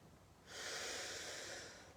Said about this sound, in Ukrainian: Видих, видих, видих, видих.